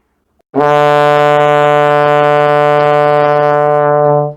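A single loud, sustained trombone note, D, held steadily for about four seconds, rich and full, then cut off cleanly.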